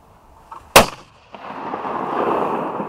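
One loud, sharp shotgun blast fired up at the sky outdoors, followed by a rising broad rumble of wind and ambient noise, with no speech.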